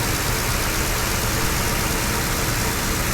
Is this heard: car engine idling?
yes